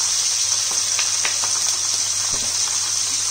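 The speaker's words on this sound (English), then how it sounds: "there's nothing quite like the sound of a good sizzle" Loud, steady sizzling of pork frying in a hot pan, a continuous hiss with a few soft crackles and pops.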